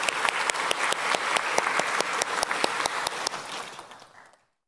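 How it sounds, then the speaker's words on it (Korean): A church congregation applauds during a Sunday service, steady crisp clapping from many hands that holds for about four seconds and then tapers off and stops. "우리 박수를 치도록 하겠습니다"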